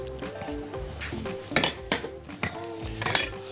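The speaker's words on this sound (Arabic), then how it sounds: "وابدا اجيب عندي الاطباق بتاعتنا، اطباق راك زي ما اتفقنا" Oven-safe ceramic baking dishes clink and knock together as they are set out on a kitchen counter, a run of bright close clatters with a few sharper hits midway.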